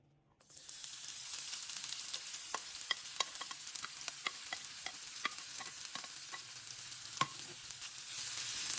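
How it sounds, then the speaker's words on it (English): Chopped onions sizzle in hot olive oil in a pan, with a sudden loud onset and then a steady frying hiss dotted with small pops and crackles, close and with no talking. "Once we have a nice hot pan, we're going to add some olive oil to it, and then we're going to add our chopped onions that we set aside"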